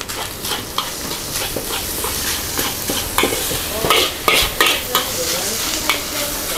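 Nasi goreng (fried rice) stir-fried with margarine at a busy roadside stall, a steady loud sizzle with repeated sharp scrapes and clanks of a spatula against the wok throughout.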